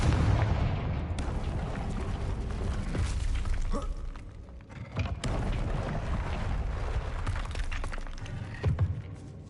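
Confringo spell blasts in the video game Hogwarts Legacy roar as a dense, loud, sustained rumble with sharper explosive bursts breaking through at a couple of points, filling the whole stretch without pause.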